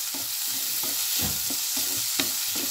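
Chopped onions with a little salt, frying in a pan in a home kitchen and being mixed with a spoon. A constant sizzle hisses underneath rhythmic, repeated scraping strokes, about one every half second, all close and fairly loud, with nobody speaking.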